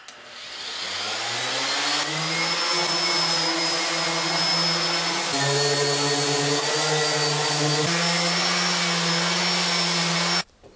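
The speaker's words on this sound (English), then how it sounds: "it's time to break out the sander." A power sander runs on a pine bookshelf, a continuous loud whirring drone close by, its pitch shifting slightly as pressure changes, and it stops abruptly at the end.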